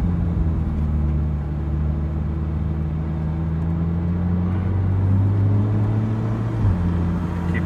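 A Ferrari 458's V8 engine during a test drive, heard from inside the car as a steady, low droning rumble with a rising pitch toward the end, continuous with no talk over it.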